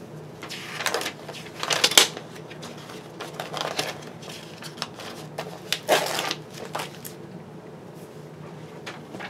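Scissors snip through glossy magazine pages in a series of irregular crisp cuts and rustles, close and fairly quiet.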